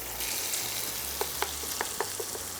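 Linguine tossed into a pan of clams, garlic and oil gives a steady sizzle broken by a series of clicking utensil taps and stirs, close and fairly quiet, with no voices.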